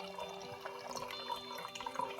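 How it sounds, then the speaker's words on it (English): Brewed coffee is poured over a shot of espresso for a red eye, a steady close liquid trickle and splash running continuously at moderate level with no talk. "So you just pour it in over this shot of espresso"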